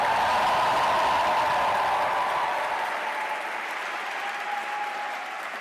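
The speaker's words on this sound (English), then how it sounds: "let's give a big cheer for Madrid." Crowd of new students at a Madrid welcome event cheering and applauding, a loud sustained wash of clapping with a raised cheer that slowly fades over several seconds.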